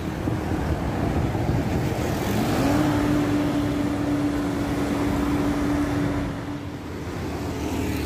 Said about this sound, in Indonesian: dari kejauhan terpantau ada bus Kalisari jurusan Surabaya Malang via tol Karanglo